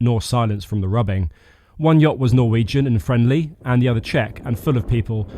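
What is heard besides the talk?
No distinct noise like a dog, phone or traffic.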